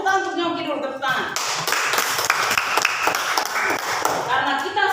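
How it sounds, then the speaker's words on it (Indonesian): A classroom of children clapping hands together, a few seconds of lively, uneven applause with scattered taps, framed by a teacher speaking just before and after. "Karena kita sudah tepuk tangan untuk Nyongki dulu, tepuk tangan."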